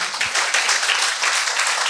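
A church congregation breaks into dense, steady applause, a full wash of many hands clapping together throughout, fairly loud and without pauses.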